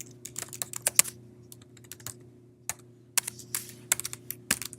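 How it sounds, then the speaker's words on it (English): Someone types on a computer keyboard to fill in a form, in irregular bursts of crisp key clicks, close and clear over a steady low electrical hum, with no talking. "And as I'm typing"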